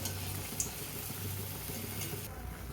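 Small rounds of mango malpua batter frying in a pan give off a soft, steady sizzle and bubbling that stays low and even throughout, close by with no speech.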